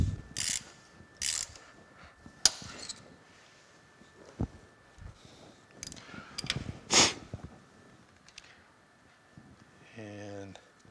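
Ratchet wrench with an 8-point socket turning a reamer to freshen a taper while reassembling a horizontal boring mill saddle, giving a few scattered bursts of clicking, near and moderately loud, with quiet pauses between.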